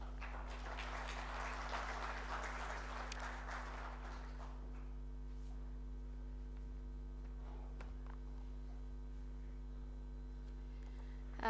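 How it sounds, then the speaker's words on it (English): A burst of audience applause at a seminar lasts several seconds and fades away, leaving a steady electrical hum. "Please welcome her with a big applause."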